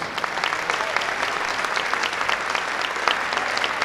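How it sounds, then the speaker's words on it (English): A gym crowd at a boys' high school basketball game applauds the game officials: a full, sustained wash of clapping from many spectators, steady and fairly loud with no break. "Please give these men a round of applause."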